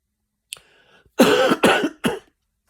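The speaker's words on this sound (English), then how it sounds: "sorry, I still got a cough." A short throat noise followed by three harsh coughs in quick succession, close and loud, with silence around them.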